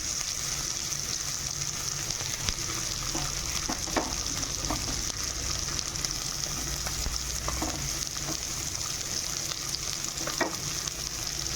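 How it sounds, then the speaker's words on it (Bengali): Singhi fish frying in hot oil on a tawa griddle, a steady close sizzle running throughout with occasional sharper pops and crackles, no talking. "এবার এক একটা করে শিঙি মাছগুলো দিয়ে দেবো।"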